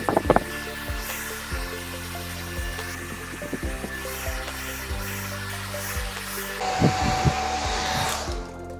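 A hair dryer blows on a wig while a Denman brush combs through the roots. The airflow roars steadily and close, with brief rustles and knocks from the brush, and no speech.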